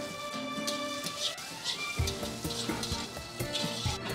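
Grated coconut and soaked cashews sizzle in hot oil in a pan for a wedding-style ivy gourd cashew stir-fry, a continuous close crackle and spatter with occasional stirring scrapes.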